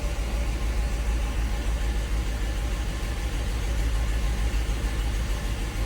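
A 1985 Euro-market Mercedes 500SEC with a misfire idles close by in a steady, low, continuous rumble, holding an even drone throughout with no talking.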